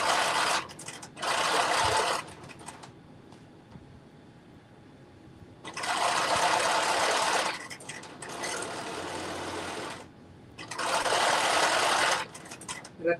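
Sewing machine running a narrow double-fold hem on a jumpsuit, in three long bursts of steady whirring with quiet pauses between them, no voices.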